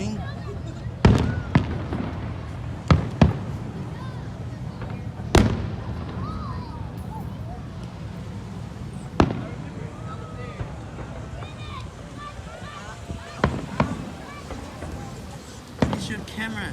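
Fireworks show with a series of sharp, loud bursts spread irregularly over the stretch, several close together, above a steady rumbling background with faint voices of onlookers.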